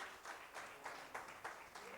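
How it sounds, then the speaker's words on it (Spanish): Church congregation applauding during a Spanish-language sermon, a faint, steady patter of many hands with soft rhythmic swells, fairly distant and low in level. "Un aplauso, aleluya."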